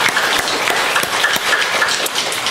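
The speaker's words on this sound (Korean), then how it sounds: "우리 하나님께 영광과 박수를 드리겠습니다" A church congregation at a Sunday worship service applauds together, a dense, steady wash of hand claps sustained evenly throughout with no speech over it.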